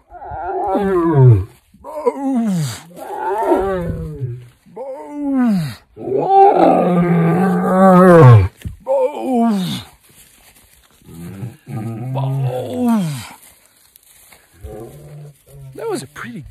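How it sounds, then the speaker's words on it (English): A young lion lets out a long series of deep, groaning roar calls, loud and close, each swelling and fading with short pauses between, the later ones quieter and lower. "That was a pretty good roar"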